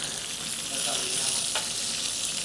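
Onions and raw carrots softening in hot olive oil, a dense, steady sizzle heard close up with faint stirring and no talk.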